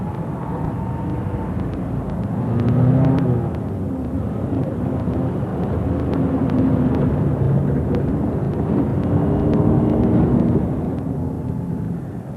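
A small airplane flies at low altitude, its engine droning steadily with a rising and falling tone as it passes, loud and sustained under a rumbling background.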